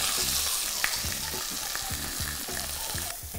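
Meat sears in a stainless steel Faberlic frying pan, giving a loud, steady sizzle with rhythmic scraping and stirring knocks. No one speaks.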